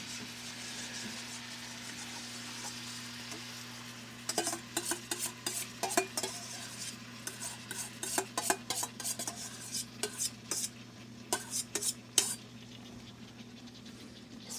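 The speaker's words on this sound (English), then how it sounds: "And then we're just gonna coat and warm our sauce up." A utensil scrapes and clatters in a pan as coconut sweet chili sauce is stirred into a stir fry. After a quiet start under a steady hum, the stirring turns into a rhythmic run of close, sharp scrapes and knocks.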